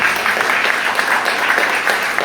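A church congregation applauds together during a worship service, a steady dense wash of clapping that carries on evenly without a break for the whole stretch.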